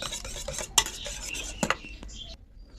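A spoon scraping and clinking against a bowl while green food colouring is mixed into isabgol pudding mixture, a few sharp knocks among softer swishes, close and alone.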